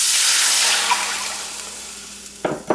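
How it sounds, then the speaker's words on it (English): Water poured into a hot frying pan with browned cabbage for soup gives a loud hissing sizzle that slowly dies down, followed by a couple of short clinks near the end. "we're going to add the water right to the frying pan"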